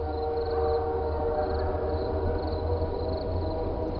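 A passing train rumbles steadily and continuously at a moderate distance, a low sustained drone with faint high whistle-like tones, and no talking.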